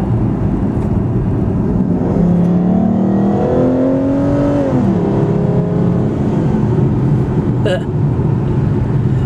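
A 470-horsepower Aston Martin Rapide accelerates hard, its loud engine note climbing steadily in pitch, then dropping briefly at a gear change before pulling again, heard close and continuous throughout.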